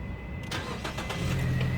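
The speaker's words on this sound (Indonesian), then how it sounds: "Coba kita nyalakan dulu mobilnya. Mari kita dengar suaranya." A 2014 Nissan Grand Livina 1.5 XV automatic cranks briefly and fires, its engine catching quickly and settling into a steady, low idle hum, heard close and alone.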